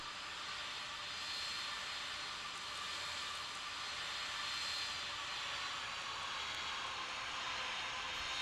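Aircraft in the Tower! Simulator 3 game at Sint Maarten airport, runway 28, a steady, even jet engine hiss and rumble held at constant distance throughout, with no voices.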